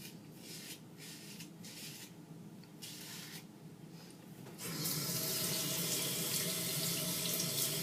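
A Harry's razor is rinsed under a running tap over a sink, steady splashing water that grows louder and fuller partway through, continuous and close with no talk.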